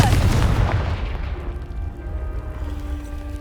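A Confringo blasting spell explodes against a pile of debris in Hogwarts Legacy, a loud booming blast at the start that rumbles and decays over several seconds into a low lingering tail.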